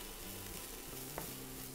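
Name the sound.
carrots and onions frying while stirred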